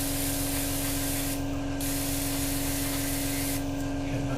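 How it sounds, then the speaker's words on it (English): An airbrush sprays paint onto the rotor head of a 1/48 scale Academy AH-64A Apache model helicopter, giving a continuous close hiss that briefly thins twice before resuming. "I'm just going to spray the top of the rotor head as well"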